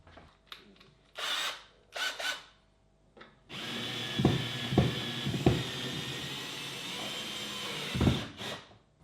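A cordless drill whirs in short bursts, then runs in a sustained grinding drive as a screw goes into a wall to mount a Neewer backdrop bracket, with sharp knocks mixed in, close and fairly loud.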